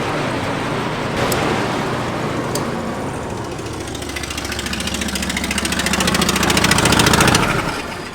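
Rented grain-cleaning machinery fired up for cleaning hemp, its engine running steadily and loud throughout with a rough, pulsing drone that swells slightly near the end before cutting back, no talking.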